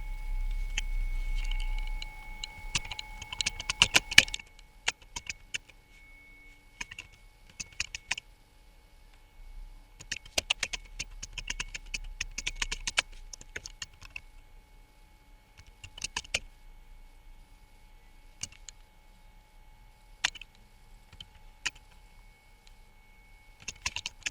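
Soft, quick taps on a phone touchscreen keyboard come in irregular bursts with pauses between, close and quiet over faint electronic tones.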